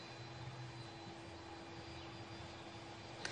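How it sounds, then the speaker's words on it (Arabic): The aircraft carrying Pope Francis arrives at Baghdad International Airport with a steady, distant jet-engine roar that holds evenly throughout, with no voices. "في هذه اللحظات نشاهد وصول الطائرة التي تحمل على متنها البابا فرانسيس رأس الكنيسة الكاثوليكية إلى بلاد الرافدين"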